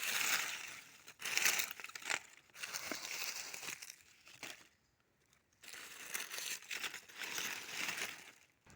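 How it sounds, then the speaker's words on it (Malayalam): Dry leaves are scattered and pressed over freshly planted taro in a garden bed, producing bursts of close crinkling and crunching rustles separated by brief quiet gaps, with no speech. "ഇനി നമുക്ക് ഇതിൻ്റെ മുകളിൽ കുറച്ച് കരിയില ഇട്ട് കൊടുക്കാം"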